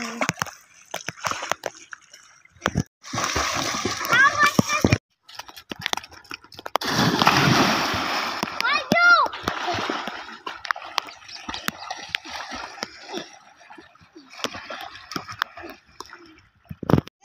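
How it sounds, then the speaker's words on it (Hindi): Children splashing and playing in a village pond used as a makeshift swimming pool, with bursts of sloshing water and scattered shouts, fairly close and continuing in uneven spells. "हमारे बच्चे पानी का कितना देसी स्विमिंग पूल का मजा ले रहे हैं"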